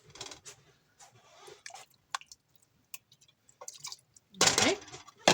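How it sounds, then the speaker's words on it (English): Water is poured and swirled into a sauce container holding leftover residue, giving scattered splashy squishes and drips that build to a louder slosh near the end, close and unaccompanied by talk. "so I'm just going to add a little bit of water"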